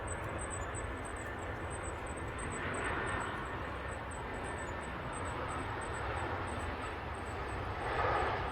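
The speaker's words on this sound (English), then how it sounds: "EasyJet Greece in that landing there." An easyJet airliner landing at Manchester Airport, heard as a steady, fairly distant broadband engine roar that swells gently twice and again near the end, with a faint high whine above it.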